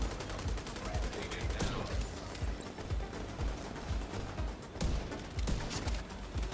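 Rapid rifle gunfire in The Division 2 video game, repeated sharp shots in quick bursts with a steady rhythm throughout, loud and close, mixed with other in-game combat noise.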